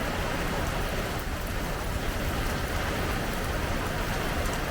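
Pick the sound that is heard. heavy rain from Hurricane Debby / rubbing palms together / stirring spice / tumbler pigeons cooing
heavy rain from Hurricane Debby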